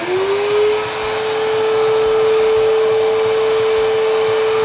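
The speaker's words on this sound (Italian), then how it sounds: "riaccendiamo l'aspirazione, si sentirà un po' di casino" A suction fan runs in a homemade clean room built for hard drive repair. It gives a steady, loud vacuum-like roar with a high whine that rises briefly at startup and then holds constant.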